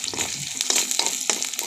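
Onions frying in a pan with ginger paste stirred in, a close, crackling sizzle broken by repeated scraping stirs at a quick, uneven rhythm.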